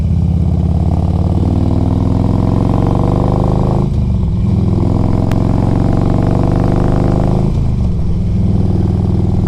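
A 2004 Harley-Davidson Electra Glide Ultra Classic rumbles along on the road, its engine a loud, steady drone that dips twice as the rider shifts gears, with no voices over it.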